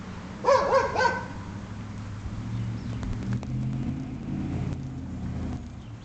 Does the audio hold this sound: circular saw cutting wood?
no